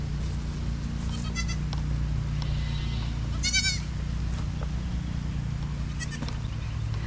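Goats, including baby goats, bleat several times over a steady low rumble outdoors on a family farm, with a louder quavering bleat midway and fainter calls further off.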